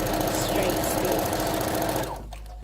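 A sewing machine runs a straight stitch along the edge of a tube dress, giving a fast, even, close mechanical chatter that stops abruptly near the end.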